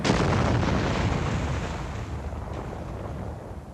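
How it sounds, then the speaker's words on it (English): A full-scale controlled explosion goes off in an aircraft crash test. It is a loud, close, broadband roar that bursts at once and slowly fades over a few seconds, with no voices. "A full-scale controlled explosion demonstrates the cushioning effect."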